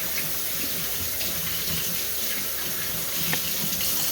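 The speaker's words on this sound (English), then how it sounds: "I'm going to wash my hands." A kitchen tap runs steadily while hands are washed beneath it, a continuous close splash of water with no talk, next to a sink kept full of warm, sudsy water.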